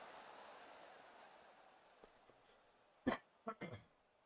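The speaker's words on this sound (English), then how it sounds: "Sorry for the coughing." A man coughs a few times near the end, short sharp bursts in quick succession after a quiet stretch of faint background hiss.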